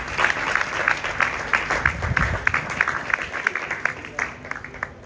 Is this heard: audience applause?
yes